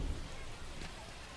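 Steady rain falling over a baseball game in the MLB The Show 25 video game, a dense continuous hiss of rainfall heard alone across the brief moment.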